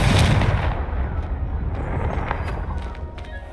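A fire spell blast in the Hogwarts Legacy video game hits with a loud booming impact, followed by a crackling, rumbling tail that slowly fades.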